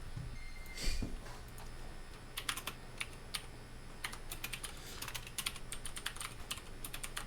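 Someone types on a computer keyboard during a tabletop role-playing session, bursts of quick clicking keystrokes, close and moderately loud over a quiet room hum, with a soft thump near the start.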